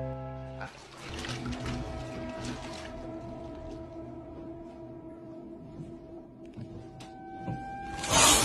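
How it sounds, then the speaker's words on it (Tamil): Water running steadily from an opened bathtub tap in a quiet house, a continuous close pour with hum-like tones throughout and a sharper splash burst near the end. "பாத் டப்ல இருக்கிற பைப் திறந்து தண்ணி போயிட்டு இருக்கிறத பாக்குறவரு"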